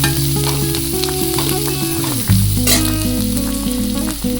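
Onions roasting in a hot pan for paneer biryani, a loud continuous sizzle and crackle close by with a brief stir partway through and no talking.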